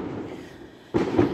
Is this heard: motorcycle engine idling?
no